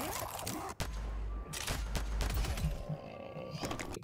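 Gunfire in the Postal Brain Damaged video game, a couple of sharp bursts of rapid shots amid busy game noise and crackle, fairly quiet overall and ending in scattered cracks.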